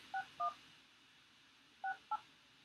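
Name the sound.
telephone keypad dialing tones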